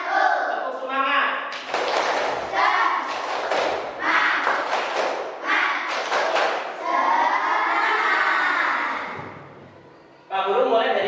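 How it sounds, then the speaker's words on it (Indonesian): A classroom group claps a rhythmic spirit clap in quick bursts, with chanting and shouting voices over the claps, and the noise drops away briefly near the end. "Tepuk semangat."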